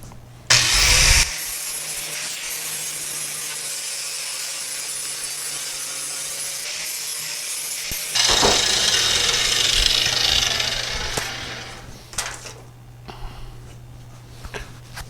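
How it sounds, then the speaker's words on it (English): A worn flap disc grinding metal during repair of a Willys station wagon door, a loud sustained abrasive whine in two long bursts with a brief pause between, then fading to scattered faint scrapes and clicks near the end, no talking. "I usually like to use worn down flap disc."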